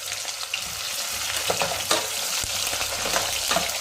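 Thickly cut onions fry in hot oil for a tomato chutney, giving a close, constant sizzle with crackling pops and the scrape of stirring throughout.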